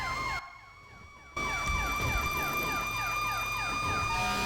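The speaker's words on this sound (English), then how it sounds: "Yes, you can double siren. Yes, it sounds as glorious as you think." Two police sirens wailing at once in a GTA V FiveM roleplay game, loud and close, with overlapping sweeping tones over a low engine drone and a short dip near the start.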